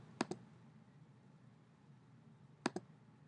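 Two quick double clicks of a computer mouse, spaced about two and a half seconds apart, crisp and close over a low steady hum, with no talking.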